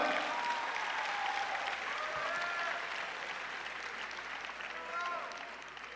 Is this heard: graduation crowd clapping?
yes